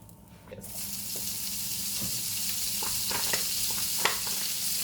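Bacon frying in a pan as the start of a meatball sauce: a steady close sizzle rising in intensity, with occasional sharp pops and crackles over the hiss.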